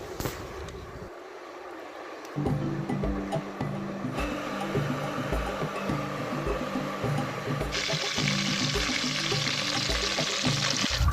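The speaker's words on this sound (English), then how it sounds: "We let the oil boil until all the water drains out" Homemade peanut oil boils in a pot as its water cooks off, bubbling and crackling steadily, a dense continuous sizzle with a rapid pulsing churn underneath, growing louder and hissier toward the end.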